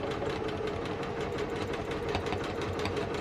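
A sewing machine runs continuously while stitching reinforced seams on a quilt being restored, with a steady, fast mechanical whir and rapid needle clatter, close and alone.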